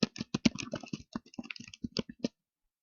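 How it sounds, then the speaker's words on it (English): Someone types a name on a computer keyboard into a blank document. Rapid, irregular key clicks come close and distinct for about two seconds, then stop in silence, with no talking. "So I'm going to type in my name."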